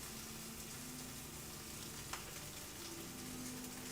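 Fat on a porterhouse steak sears with a steady, soft crackling sizzle. The sizzle is quiet and continuous, with no voices.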